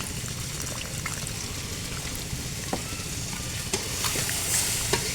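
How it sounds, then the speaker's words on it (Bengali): Broth poured into potato curry cooking on a clay stove, heard as a loud, close, bubbling hiss and sizzle with a few light taps and clinks of a utensil, rising slightly toward the end. "দিয়ে দিলাম ঝোল আলুতে"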